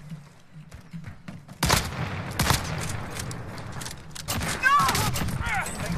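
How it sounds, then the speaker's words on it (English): Gunfire in Call of Duty Warzone: sharp bursts of shots, some loud and close, spread through the clip over background game noise and battle effects. "Taking shots."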